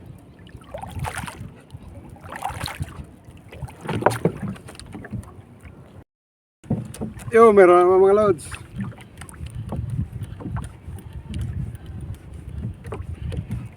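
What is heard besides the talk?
paddling a small wooden boat (bangka) on water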